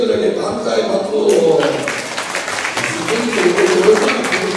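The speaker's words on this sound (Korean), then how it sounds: "옆에 있는 선생님들에게 감사의 박수!" A room full of children and teachers at a church kids' revival camp breaks into sustained clapping that swells and carries on for several seconds, mixed with voices.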